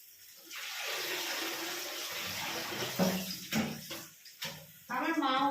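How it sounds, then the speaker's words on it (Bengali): A cabbage being washed under a running tap, a steady rush of water that breaks into splashes and gurgles as it is handled, and someone speaks near the end. "দাঁড়াও আমি ধুয়ে নিই বাঁধাকপিটা"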